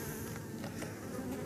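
A busy beehive full of bees gives off a thick, continuous drone, close and even, with no voices.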